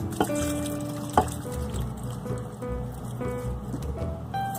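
Canned whole kernel corn tipped into simmering homemade beef stew liquid, giving a couple of sharp plops followed by steady wet trickling and bubbling at close range, with no voices.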